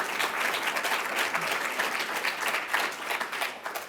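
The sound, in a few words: applause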